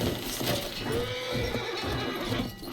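A horse whinnies in Battlefield gameplay with a rising then falling whine, close and loud, over a busy background of game noise and rustling.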